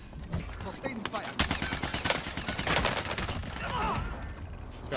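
Sustained bursts of automatic gunfire rattle through a jungle firefight in a multiplayer shooter video game, dense and continuous over several seconds, with brief snatches of voice mixed in.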